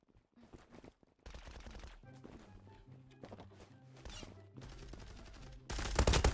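Rapid bursts of gunfire in the online shooter Zula during a competitive match, dense automatic fire that grows louder toward the end, with no talk.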